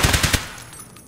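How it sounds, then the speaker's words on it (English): Video game gunfire: a quick burst of about four rapid shots rings out, loud and close, then trails off into a fading echo with no talking. "That gun is shooting like 20 degrees below where you're aiming at."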